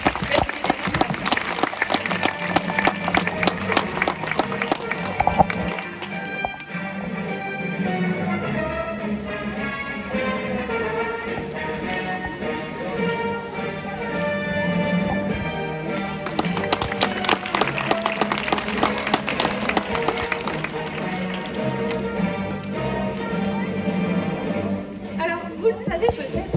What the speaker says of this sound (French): Et je pense qu'on peut applaudir très fort notre petit orque pour cette très jolie démonstration.